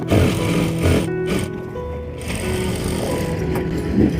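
A sewing machine running double stitches along the sides of palazzo pants, a close, steady mechanical whir with brief pauses and restarts.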